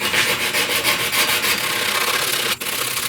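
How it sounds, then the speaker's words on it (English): Sanding block loaded with 80-grit paper rubbing back and forth over the upper cowl panel of a 1969 C10 truck, a steady, close, loud rasping scrape in quick repeated strokes, briefly broken near the end. "run a block with some 80 grit over it just as a final sanity check"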